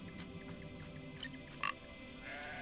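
Sheep-like meeple creature in the video game Grow Home giving a short, faint bleat amid soft ambient game tones and scattered small clicks.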